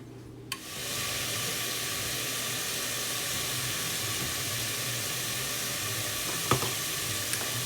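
Onions sautéing in a hot pan give a steady close sizzle that starts with a sharp hiss, with a few faint clinks of stirring near the end and no talking.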